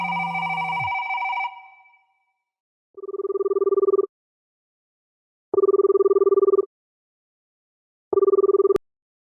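A phone rings at night in a quiet room: a sharp electronic tone fades out, then three clear, evenly spaced ring bursts sound alone, loud and close.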